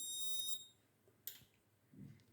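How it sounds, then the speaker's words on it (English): Piezo buzzer on a flame sensor circuit built without an Arduino, giving a short faint high-pitched tone for about half a second, followed by small clicks and handling noises. "So the buzzer is on."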